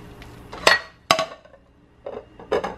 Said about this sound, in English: I'm going to fill it up with boiling water, and then I'm going to put the plate over my bowl